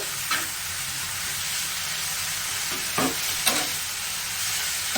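Shrimp and pumpkin leaves fry together in a pan with a continuous close sizzle, broken by a few sharp stirring scrapes and clinks.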